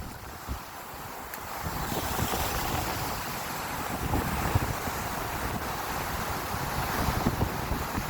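Ocean surf and gusting wind on a shoreline hours before Hurricane Sally makes landfall, a steady broadband wash of breaking waves with wind buffeting the microphone throughout, loud and close, no talking.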